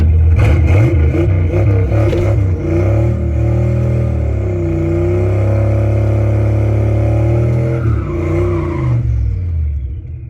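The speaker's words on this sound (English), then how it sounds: "Big old burnout, let's go." A drag racing car doing a burnout at a track, its engine roaring loudly and close with rising revs and a sustained high-rpm drone before cutting off near the end, with no voices.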